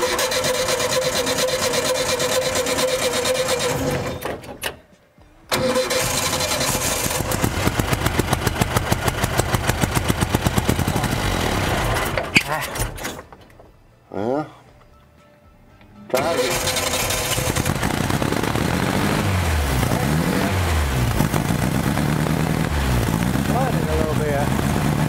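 An old VW bus engine cranks over and catches, running with a rough, loud, steady idle broken by two brief dropouts as it stalls and restarts, while people talk nearby.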